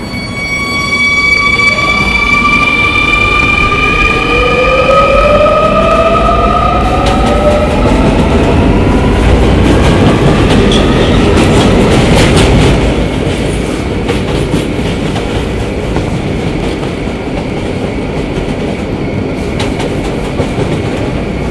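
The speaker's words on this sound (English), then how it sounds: "This is a Potato Brook bound 11 local train." An R220 subway train on the 11 local rumbles loudly and continuously at close range, with rising whining motor tones as it accelerates and a clattering wheel roar throughout.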